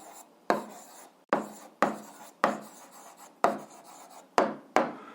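Pen or chalk writing out a math answer, eight short scratchy strokes in an irregular rhythm, close and fairly quiet, with brief pauses between strokes and no talking.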